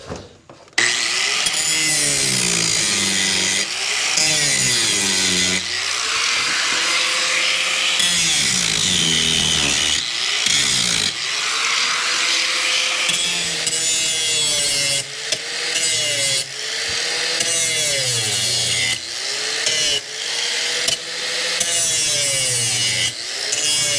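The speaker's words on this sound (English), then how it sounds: "Time to drill the rivets out." Rivets being drilled out of an aluminum ceiling panel in a trailer: a close, continuous whining bite that rises and bends in pitch as the bit cuts through each rivet, with brief pauses between, and no talking.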